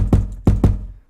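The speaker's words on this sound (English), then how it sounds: "we put in this kick, I guess," A kick drum sample for a trap beat thumps three times in a short uneven pattern, each hit punchy and deep with a quick decay, alone and fairly loud.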